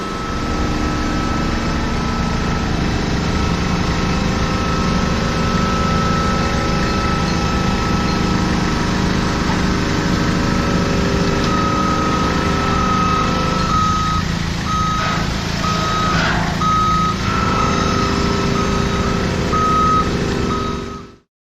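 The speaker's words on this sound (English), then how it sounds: "and we'll drive in with the forklift truck and pick up the bag." A forklift truck engine runs loudly and steadily at a Turrini DEP 800 water recycling system, with a brief stretch of repeated reversing beeps partway through.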